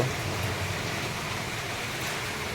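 Steady, dense rain hiss over a fish pond fills the whole stretch, an even wash of falling water with no voices.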